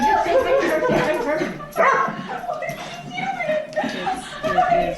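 A dog yips and whimpers excitedly in a played video, a run of high, bouncy vocal bursts under steady overlapping speech and laughter.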